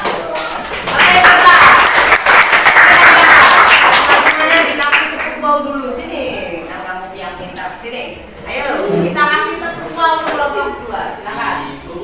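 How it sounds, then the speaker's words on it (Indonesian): A classroom of students claps in loud, sustained applause during an academic coaching session, then it tails off into chanting voices. "Tepuk tangan."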